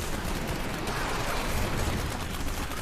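Dense, continuous barrage of rapid crackling and popping effects from a Demon Hunter's Rain of Vengeance skill in Diablo 3, loud and unbroken like heavy gunfire, with no talking.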